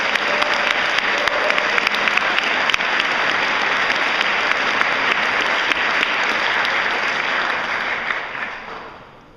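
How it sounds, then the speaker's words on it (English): Sustained applause from an audience thanking the Capitol staff at a youth gathering, a dense even clatter of many hands that holds steady for several seconds before tapering off at the end. "And the last round of applause I'll ask for is, can we please thank the Capitol staff"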